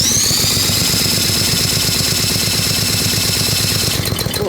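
A small lawnmower engine spun over by hand for a compression check, an even rapid chugging pulse that keeps one steady rhythm, with a faint rattle near the end.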